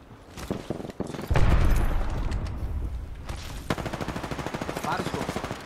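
Automatic gunfire and a loud blast ring out during an Apex Legends match, bursts of rapid close shots with a heavy boom, then a steady rattling volley, with a voice heard briefly.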